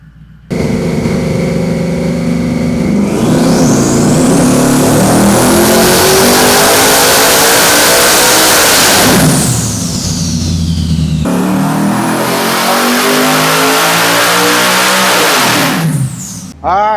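A twin-turbo Shelby F-150 engine on a dyno roars through a long, loud rising pull, revs climbing steadily for about nine seconds, then drops briefly before a second sustained high-rev stretch and a sharp cutoff.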